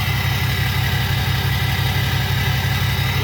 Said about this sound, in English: Listen to that turbo, baby.